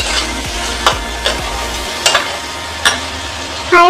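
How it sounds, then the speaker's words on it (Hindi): Potatoes and radish fry in a pan over high flame, a soft steady sizzle broken by several sharp scrapes and taps of stirring, close up and with no talk. "10 से 5 मिनट इसे भून लेंगे।"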